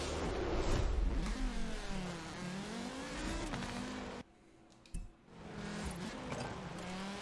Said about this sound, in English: That sounds like a rally car.